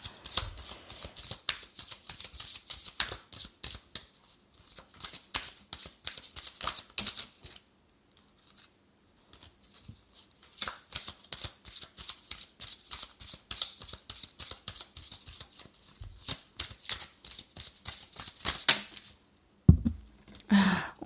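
Tarot cards are shuffled and drawn by hand, a close run of quick flicking riffles and soft slaps with a quieter pause midway and a few louder taps near the end, heard alone without talk.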